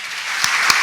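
Brief burst of dense audience applause at a Korean navy Sunday afternoon church service, steady and fairly loud, with a couple of sharper claps standing out.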